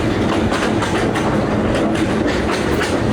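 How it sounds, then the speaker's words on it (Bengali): A slow train on the Kurigram to Chilmari line, moving at about 23 km/h, rumbles loudly from on board with a steady rhythmic clickety-clack of wheels over rail joints, heard close and alone. "ঘন্টায় 23 কিলোমিটার বেগে ছুটে যাচ্ছে আমাদের এই কচ্ছপ ট্রেন"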